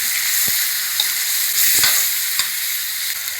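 Catfish sizzling in hot oil with jungle curry paste, a steady bright fry hiss throughout with a few soft knocks of a spatula in the pan, close and continuous, no voices.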